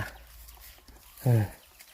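Chicken clucking briefly near a bamboo-shoot foraging spot by water, a short burst of clucks midway through an otherwise quiet outdoor scene.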